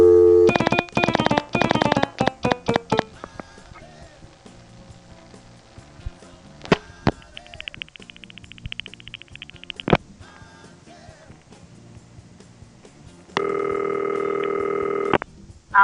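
Telephone dialing tones on a phone line: a rapid string of short tone bursts at the start, then scattered beeps and clicks, and finally a steady, louder tone holding for a couple of seconds near the end.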